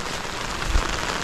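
Heavy rain pouring down outdoors during a flood, with an overflowing drainage canal nearby; a steady dense hiss of rainfall with a brief low rumble midway, no voices.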